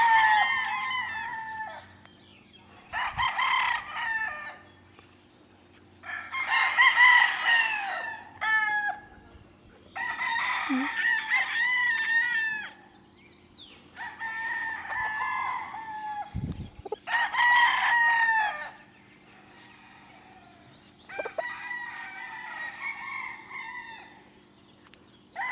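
Sweater gamefowl roosters crow repeatedly at a farm, with several loud, drawn-out cock-a-doodle-doos separated by short gaps, along with occasional clucking and a steady background hum.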